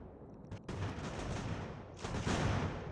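Mortar fire in the Ultimate General: American Revolution video game, two heavy booming blasts in quick succession followed by a broad rolling roar of battle, loud and dense.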